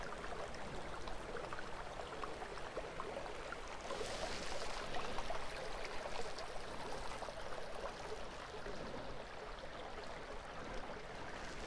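Steady rushing of creek water flowing under a log, a continuous broadband wash that swells slightly midway, with no voices.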